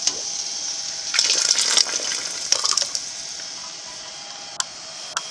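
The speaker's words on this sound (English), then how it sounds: "I'll dump the water back into the canner, and it's at a simmer right now." Water poured from a glass jar back into a simmering canner while canning blackberry jam, a steady close watery gush with a few clinks and brief splashes.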